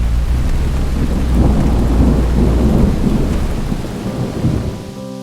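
Loud, deep rolling thunder rumbles continuously, mixed with steady rain in the Maredumilli forest, then fades toward the end.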